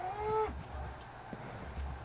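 In the Towncraft video game, a cow gives one short, tonal moo at the start. Muffled thuds and low game sounds follow, and no one speaks.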